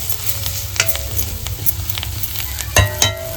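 Spiced masala with chilli powder and turmeric stirred in a frying pan, a close sizzle under scraping spoon strokes, with a sharper knock near the end.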